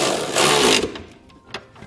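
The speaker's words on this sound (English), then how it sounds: "And now using a 19mm socket, snugging them down." A 19mm socket on a ratchet or power tool snugs down bolts for a Curt trailer hitch receiver on a 2017 Toyota RAV4, giving a loud whirring burst that stops abruptly, followed by quieter clicks and a brief clank.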